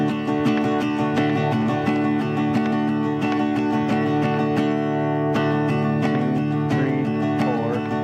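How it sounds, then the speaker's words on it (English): Guitar strummed in a steady 16th-note pattern, four even strokes per beat, dense and continuous with sharp recurring attacks, close and loud, no talking. "playing a 16th note strumming pattern"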